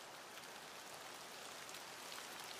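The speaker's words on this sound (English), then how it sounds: "Suddenly, a gentle rain began to fall." Gentle rain falls as a soft, continuous hiss of drops, steady and faint throughout, with no voices or other sounds on top.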